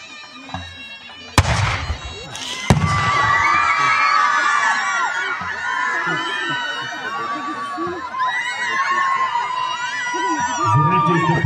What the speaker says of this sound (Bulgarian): Чуват се викове от хайдутите